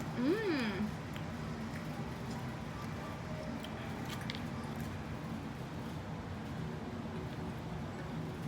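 Someone chews crunchy thin crust pizza close to the mic with soft, steady mouth sounds, and a brief vocal sound comes at the start.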